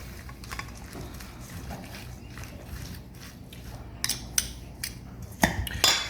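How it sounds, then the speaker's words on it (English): Spoon stirring a mayonnaise marinade in a bowl while prepping smoked ribs, with scattered light clinks and scrapes growing sharper toward the end, close and fairly quiet. "And we're gonna stir that up."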